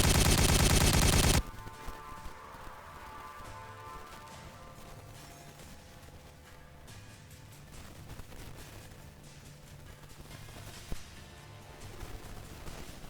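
Gunfire from the Warhammer 40K Regicide video game: a loud burst opens the stretch, then sustained rapid shots crackle steadily over a low game hum, with one sharper crack near the end.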